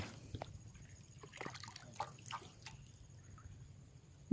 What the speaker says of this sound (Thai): แต่เสียงน้ำตัวนี้คลอกคลอกคลอกอยู่